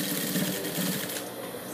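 An overlock sewing machine stitches a skirt seam with a fast, continuous mechanical whirr and chatter, close and steady throughout the brief burst.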